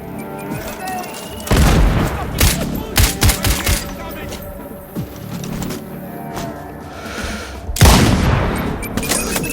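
Bursts of video game gunfire crack and boom in clusters, with scattered single shots and a heavy blast near the end, plus distant voices underneath, in Sniper Ghost Warrior Contracts 2.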